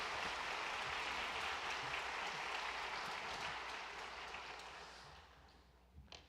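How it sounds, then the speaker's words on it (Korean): Church congregation applauds to welcome visiting guests during a Sunday worship service, a broad roomy wash of clapping that slowly fades away and ends with a few scattered final claps. "한 번 더 우리 두 분 일어서시면 박수로 환영해 주시길"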